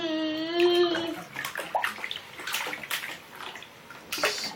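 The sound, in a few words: baby splashing water in the bathtub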